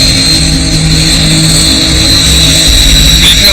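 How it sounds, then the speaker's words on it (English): Cold War-era jet trainer aircraft engines spool up in a loud, steady roar with a sharp high whine, holding strong for several seconds with no voices. "And the noise of the engines rising."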